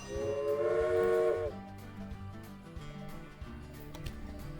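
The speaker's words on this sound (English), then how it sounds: "Let's add a locomotive." Railway Empire locomotive sound as a new engine is added in the strategy game: a loud steam whistle blast at the start, then chuffing and rolling train noise over a soft background of game music.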